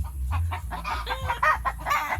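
Backyard hens cluck continuously close by in a rapid, busy chatter, with a low rumble underneath.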